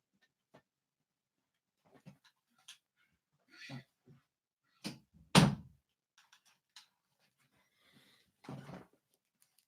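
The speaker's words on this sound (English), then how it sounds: "He's been having this really nasty like hacking and coughing." A 15-year-old dog with bronchitis hacks and coughs in short, scattered bursts with quiet gaps between, one loud close cough in the middle and a rougher spell near the end.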